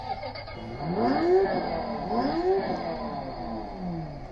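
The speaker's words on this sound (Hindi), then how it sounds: "अब करते हैं अपनी बाइक को यहाँ से स्टार्ट।" Kids' electric bike starting up: a soft motor whir swells and falls in two gentle rising sweeps, close and fairly quiet over a steady hum, with no talk.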